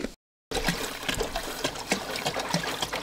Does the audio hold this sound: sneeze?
no